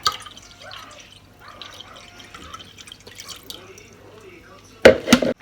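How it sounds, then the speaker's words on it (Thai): Water is poured into a cooking pot while making chicken wonton soup. Quiet kitchen sounds and a voice come first, then a short, loud splashing rush of liquid near the end. "เทน้ำใส่หม้อค่ะ"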